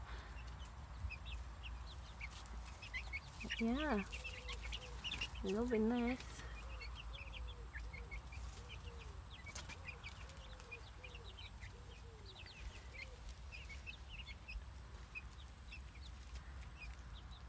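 Two cockerels clucking and squawking in a brief scuffle, with a couple of sharp bursts of agitated calls over a low steady rumble; a voice speaks briefly.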